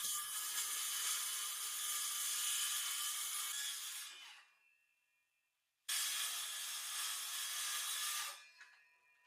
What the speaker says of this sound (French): Ensuite, je peux suivre la ligne avec ma scie circulaire pour enlever l'excédent.